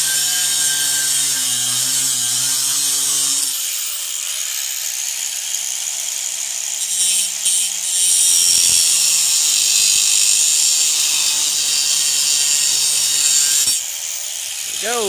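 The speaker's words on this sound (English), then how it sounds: "we're just getting a cut with the grinder out here" An angle grinder cuts through angle iron outdoors. A sustained, loud, high-pitched abrasive whine runs for about ten seconds with slight wavering, then stops abruptly. A brief low hum comes before and after the cut.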